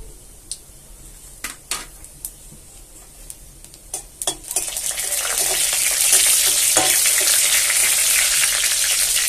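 Dried red chillies and nigella seeds are tossed into hot oil with bay leaf while cooking a lentil dish with jute greens. A few scattered clinks and taps come first, then a loud, steady sizzle rises and holds, with no talking.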